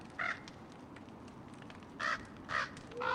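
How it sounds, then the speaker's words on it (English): Crows cawing in the video game Don't Starve, four harsh caws spaced irregularly over a low ambient game background, moderately near. "The crows are gathering."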